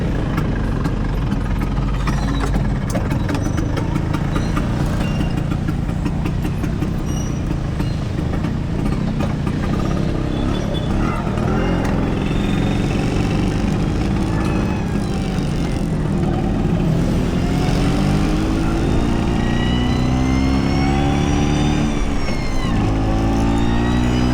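Loud, close engine noise from a Vespa scooter on a mountain tour, running continuously with rising and falling revs that sweep upward in pitch toward the end, with no voices over it.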